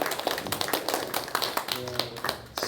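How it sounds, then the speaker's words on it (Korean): A church congregation claps during a Sunday praise service, a steady run of dense hand claps mixed with room noise and a few voices underneath. "다시 한번 박수로 감사합니다."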